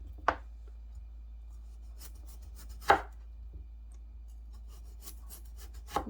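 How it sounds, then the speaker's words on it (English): A knife slicing a potato into half-inch rounds, a few sharp, close cuts against a board, spaced seconds apart over quiet background, with no talk. "I'm going to cut the potato into round slices, about half an inch thick"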